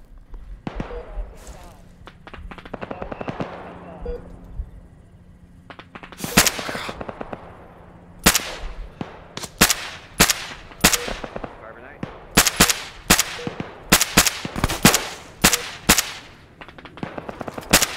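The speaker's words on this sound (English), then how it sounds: "I'm taking fire from the southwest." Gunfire in the military shooter ArmA 3, with sharp, loud shots in irregular bursts and single cracks, some rapid volleys, while people talk in between.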